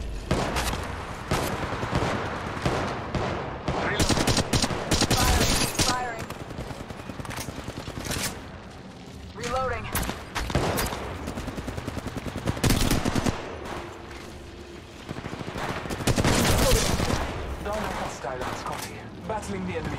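Rapid gunfire bursts and single shots crack in Apex Legends gameplay, loud and repeated across the whole stretch, with in-game voice callouts mixed in.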